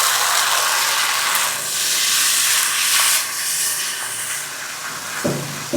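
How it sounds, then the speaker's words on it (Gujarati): Mint juice mixed with gram flour poured into a hot pan, a loud continuous steamy sizzle and hiss that swells and eases, ending with a brief clatter near the close. "આપણું જે ચણાના બેસન સાથે ફુદીનાનું જે જ્યુસ તૈયાર કર્યું છે એને નાખી દઈએ છીએ"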